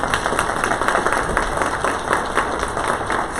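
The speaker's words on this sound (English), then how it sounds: "give this panel a round of applause before we start here" A conference audience applauds a CEO roundtable panel at a luncheon. Dense, even clapping from many hands runs steadily throughout at moderate loudness, with no talk over it.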